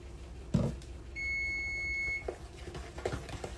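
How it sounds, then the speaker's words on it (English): A single electronic beep, a steady high tone lasting about a second, preceded by a soft thud and followed by faint kitchen clatter. "This beeping has got to quit."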